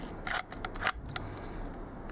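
An overhauled double-stroke Leica M3 rangefinder fires its shutter at half a second, producing a short cluster of sharp mechanical clicks and a quieter tick, close and clear with no talking.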